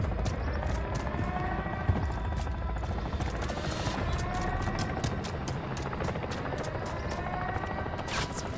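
An armored helicopter flying overhead in Call of Duty Modern Warfare 3, its rotor chopping steadily and loudly amid dense rapid gunfire and a few sharp bangs.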